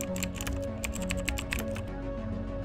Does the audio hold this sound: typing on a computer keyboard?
yes